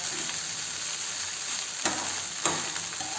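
Okra, egg and rice fry in a pan over a high flame, a steady close sizzle with a couple of brief stirring scrapes.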